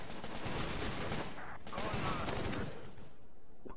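Gunfire from World War II soldiers in Company of Heroes crackles in dense overlapping bursts and volleys, continuous and fairly loud, tapering off at the end.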